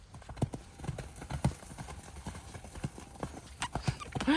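Horse trotting in a steady clip-clop rhythm of hoof beats, close and fairly loud, with a brief whinny near the end and a rider speaking now and then.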